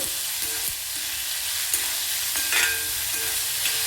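Onion and curry leaves frying in a pan for a sprouted moong dal and dill leaves curry: an even, close sizzle with a few scraping stirs and light clinks, no one speaking.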